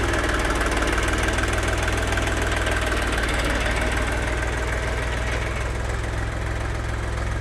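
A machine engine runs steadily and loudly as it is put in gear and driven forward, a constant knocking diesel-like rumble with a slight vibration, with no talk over it.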